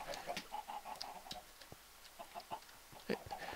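Minecraft chickens cluck in short, soft repeated bursts at low volume, scattered irregularly with faint clicks and game noise between them.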